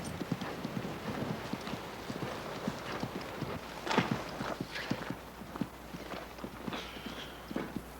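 Horse hooves clip-clopping at a steady walking rhythm, close and distinct, with a faint background murmur and no clear speech.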